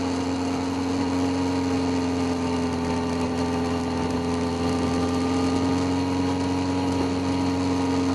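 A 2008 Yamaha R6S sport motorcycle engine idles steadily with a constant hum and rough undertone, close and even throughout with no revving.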